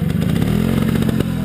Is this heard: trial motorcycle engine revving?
yes